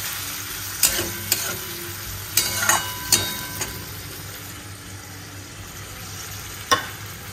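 Moong dal fries in a pan with spices as it is stirred, a steady soft sizzle broken by sharp scrapes and taps of the spoon against the pan, with no talking.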